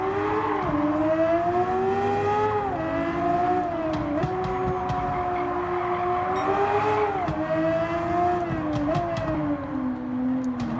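A Nissan GT-R engine in the Gran Turismo 7 racing game revs up and drops through repeated gear shifts, with a sustained muffled drone and faint tire noise throughout.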